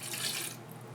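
Water pouring into a large mixer bowl as the final ingredient of a big batch of pizza dough, a bright, close splashing rush that runs for half a second and then drops to a faint trickle.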